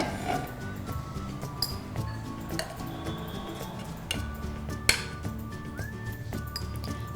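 Roasted cumin mixture for lemon gojju is tipped into a bowl. Light metallic clinks and scrapes ring out irregularly, a few sharper knocks stand out, and a faint background hum runs throughout.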